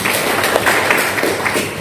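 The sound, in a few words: congregation applause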